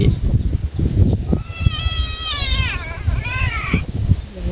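A cat meows repeatedly, rising and falling in drawn-out, fairly loud calls, while a person talks quietly in the background.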